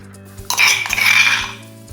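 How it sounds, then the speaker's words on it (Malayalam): Crushed onion, green chilli and ginger go into a curry pot for a Thrissur-style fish curry, with the gas still off: a brief, close clatter and scrape of a utensil against the pot lasting about a second. "നമ്മൾ കറി വെക്കുന്ന ചട്ടി എടുത്തിട്ട് അതിലേക്ക് ഈ ചതച്ച സാധനങ്ങൾ ചേർത്ത് കൊടുക്കുക."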